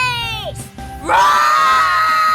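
People scream at each other in a played-back video, first a falling shriek, a brief gap, then a loud sustained high scream, layered shrill voices close and overlapping, with no other speech.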